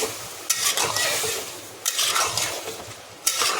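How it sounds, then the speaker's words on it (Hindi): A spoon scrapes and stirs rice and peas in a pot for matar pulao, three rhythmic bursts of scraping with a soft sizzle underneath, close and clear with no talking. "ये मिक्स कर देंगे।"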